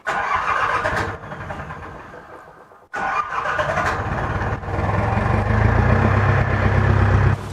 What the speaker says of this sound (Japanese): じゃあエンジンかけて